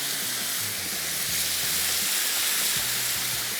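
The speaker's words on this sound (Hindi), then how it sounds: "लेकिन इसको फ्राई करते जाते हैं" Chicken 65 masala frying in a pan, a loud, steady, close sizzle with a constant bright hiss, with occasional low stirring knocks beneath it and no talk.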